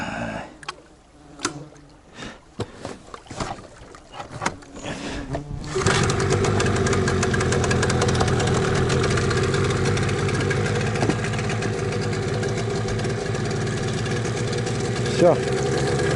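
Outboard boat motor heard first through a few short bursts and talk, then catching and settling into a loud, steady idle that runs unbroken to the end.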